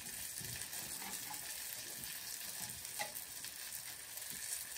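Pork chops fry in a cast iron pan with a steady, dense sizzle and crackle that stays even and close throughout, with no voices.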